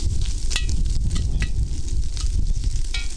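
A chicken quesadilla frying in a pan, a loud, close, continuous sizzle with crackling pops and brief stirring scrapes, no voices.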